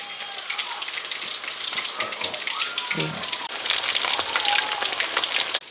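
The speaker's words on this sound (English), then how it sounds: "While the chicken is frying, Sira will make achar." Dense crackling and popping of hot oil fills the clip, loud and continuous like chicken deep frying, with a few faint clinks in the mix.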